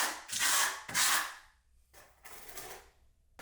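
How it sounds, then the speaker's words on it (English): A Venetian trowel spreads micro cement across a storage unit in a few close scraping strokes, two pairs of rasping sweeps separated by brief pauses, with no talking. "I'm just using that Venetian trowel just to apply that product."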